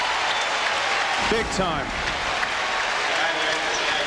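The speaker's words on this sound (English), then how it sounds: "I'd like to applaud too now." A tennis crowd applauds Agassi with steady, dense clapping that fills the whole stretch, while a commentator briefly speaks over it.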